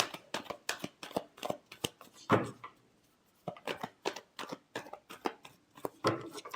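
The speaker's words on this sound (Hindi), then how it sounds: "Last shuffle." Tarot cards being shuffled by hand in quick, crisp bursts of riffling snaps, with a short pause in the middle before the rapid flicking resumes, close and clear.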